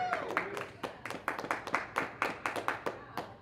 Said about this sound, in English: And can I get a round of applause for Chris?